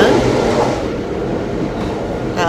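Passenger train bound for Paris from Nice, a steady close interior rumble of wheels on rails with a brief bright squeal near the end, people talking faintly beneath.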